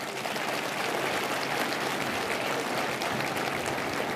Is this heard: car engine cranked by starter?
no